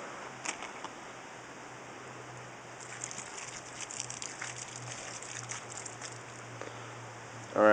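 Water from a bottle splashes and patters onto tinder and soaked cattail outdoors, a faint, continuous rain-like spatter that thickens in the middle, with no voices.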